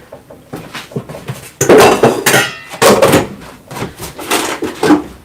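A metal frying pan clanks and scrapes against other cookware nearby, with several irregular knocks and rattles at close range.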